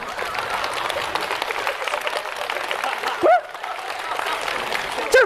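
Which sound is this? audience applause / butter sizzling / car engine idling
audience applause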